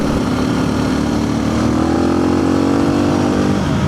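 A modified Suzuki DR650 dual-sport motorcycle accelerates hard, its engine note climbing steadily in pitch and staying loud and close throughout, with no talk.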